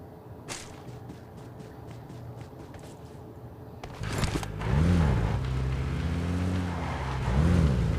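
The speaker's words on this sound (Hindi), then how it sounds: "तो मुझे अपनी फूटी हुई गाड़ी में से ही जाना पड़ा।" Damaged car in the video game PUBG, low on fuel, starting off with sharp clacks before an engine note swells and revs in repeated rising and falling surges, fairly quiet and without talk.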